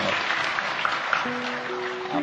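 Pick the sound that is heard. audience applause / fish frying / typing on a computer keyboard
audience applause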